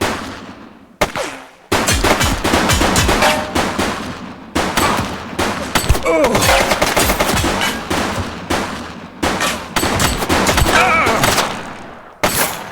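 Gunfire in The Precinct, a police video game: loud bursts of automatic fire and single shots with short pauses between bursts, close and dominant throughout, with a voice underneath.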